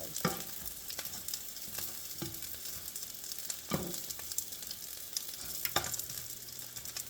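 A lentil sausage frying in a pan on medium-high heat, a steady soft sizzle with occasional sharper crackles and scraping bumps as it is turned, no talking.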